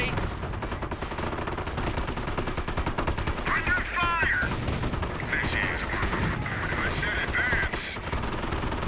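Sherman tank rounds firing in Company of Heroes crackle in dense, continuous bursts mixed with other battlefield gunfire and game effects. The clatter stays steady and loud throughout, with a few brief metallic pings in the middle.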